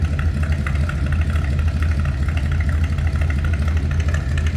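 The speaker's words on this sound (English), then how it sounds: "A little old school hot rod rumble." Steady, throaty hot rod idle from a 1956 Ford Crown Victoria engine, low rumble pulsing evenly and loud nearby, with no talking.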